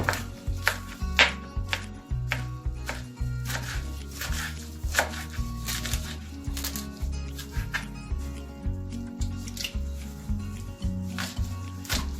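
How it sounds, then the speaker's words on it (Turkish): Rapid knife chopping of stinging nettles on a cutting board, steady rhythmic thuds close up, continuing without pause and no talking. "Şimdi doğrayalım. Bu şekilde doğramaya başlayalım."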